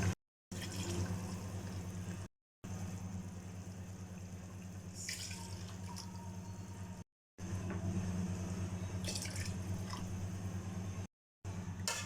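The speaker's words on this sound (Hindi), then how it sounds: "मेरे 2 गिलास हैं तो मैं 4 गिलास पानी डालूँगी।" Water for yakhni pulao broth runs steadily into a cooking pot, a continuous close splashing pour broken by a few short silent gaps, with no talk.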